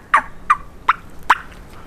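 A wild turkey gobbles in four quick, sharp bursts at a steady pace, loud and close against a quiet background.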